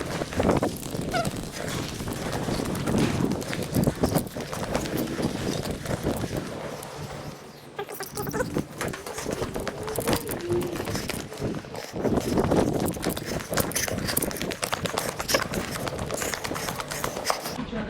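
Footsteps run around inside an echoing warehouse, a continuous loud clatter of quick steps mixed with rustling and scuffing, and brief voices heard intermittently.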